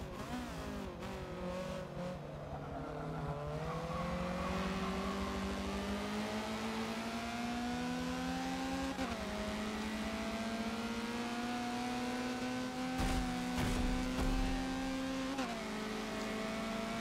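A Honda CRX races around Suzuka West in the Forza racing game. The engine wails steadily and loudly, climbing through the revs with brief dips at gear shifts, and there is no talk.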